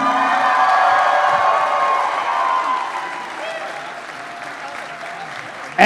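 A comic convention crowd applauds and cheers for a cast member, loud dense clapping with shouts and whoops that gradually thins and fades.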